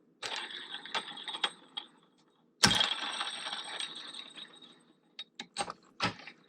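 Bike tool pressing a Wheels Mfg press-fit bottom bracket into a frame, with clicking, ratcheting and scraping in two bursts separated by a pause, then a few sharp knocks, fairly quiet and close.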